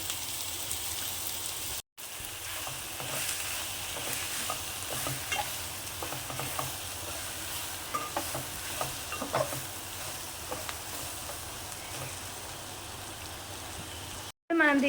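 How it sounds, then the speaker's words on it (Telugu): Dondakaya (ivy gourd) frying in a pan with a little salt, a steady close sizzle with scraping stirs throughout and two brief cuts to silence. "కొంచెం సాల్ట్ వేసుకొని ఫ్రై చేసుకోండి"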